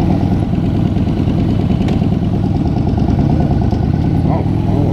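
Motorcycle engine runs close and loud, a steady throbbing idle with a slight rise in revs toward the end, while a person talks over it.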